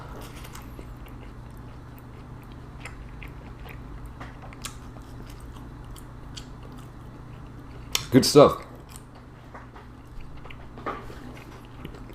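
A person bites into a soft Auntie Anne's pretzel stick filled with cream cheese, making one brief close-up bite followed by quiet chewing, with a little speech in a quiet room.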